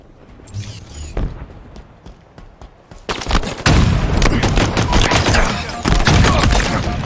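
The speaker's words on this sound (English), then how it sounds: "MA-40 assault rifle here." MA-40 assault rifle fire in a first-person shooter game played on PC, with sparse single shots giving way to loud, dense rapid bursts, close and continuous in the second half, with no talk.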